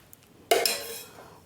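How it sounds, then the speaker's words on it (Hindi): A spoon scrapes and clinks against a metal pressure cooker as ghee goes in, one sharp metallic clink followed by a short fading scrape, quiet and close. "इसमें डालेंगे सबसे पहले नीचे 1 चम्मच घी।"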